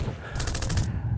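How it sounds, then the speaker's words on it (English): Spring 8903 toy Tommy gun with a red dot scope firing a brief rapid burst of about six ticking shots, close and fairly loud, over a low background rumble. "The Spring 8903 Tommy gun with a red dot scope."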